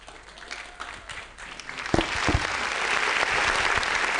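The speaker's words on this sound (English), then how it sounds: "A round of applause yet again" Applause from a debate audience at a youth leadership debate final, starting sparse and swelling into steady, full clapping from a room of people that carries on to the end.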